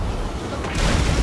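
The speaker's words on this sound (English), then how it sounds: "The cannon is going to remount and may get a good shot." Cannon fire in a Total War Warhammer battle: a loud, rumbling boom that swells near the end, surrounded by dense broadband battle noise.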